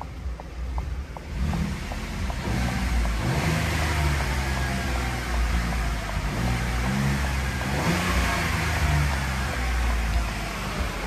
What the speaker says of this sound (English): Just gonna give it a few revs.